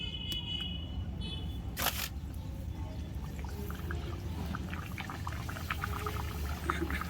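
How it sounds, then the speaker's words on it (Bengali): Luchi flatbreads deep-fry in hot oil, a soft continuous sizzle and bubbling crackle at moderate distance, with a few clicks and a brief clatter early on. "এবার এক এক করে সবগুলো লুচি ভেজে নেব।"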